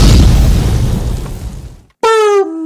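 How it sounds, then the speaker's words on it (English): A cannon fires a cannonball with a single loud, close boom whose rumble fades over about two seconds, then a short bright tone follows after a brief silence. "Let's fire the cannon. A cannonball shoots out of the cannon."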